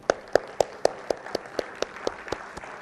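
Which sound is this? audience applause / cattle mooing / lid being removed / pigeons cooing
audience applause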